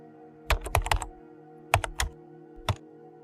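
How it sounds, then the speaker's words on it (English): Slow clicks of typewriter keys, about six sharp presses in uneven bursts separated by pauses, fairly close and distinct over a quiet steady hum. "A faint clicking sound, like someone pressing typewriter keys very slowly."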